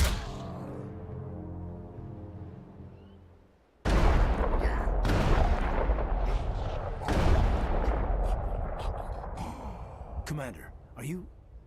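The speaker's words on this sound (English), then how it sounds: "Now I'll shoot him myself." Gunshots from Mass Effect Legendary Edition: after a quiet low hum, a sudden loud burst of gunfire erupts, followed by sharp repeated cracks and impacts continuing over game sounds and talk.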